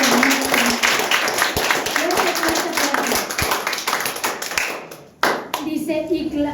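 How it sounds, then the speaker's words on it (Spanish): Church congregation clapping vigorously in a fast, steady rhythm, a crowd of many hands with voices mixed in, briefly dropping out near the end before resuming. "Dale un fuerte aplauso al que vive"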